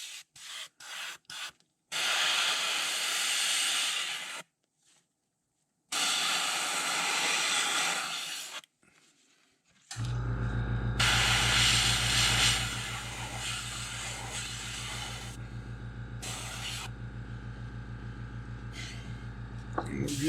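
An airbrush mists green pumpkin and olive paint over the shells of a custom crawfish fishing lure, giving short close hissing bursts with gaps between them, then a steady humming compressor drone that runs to the end.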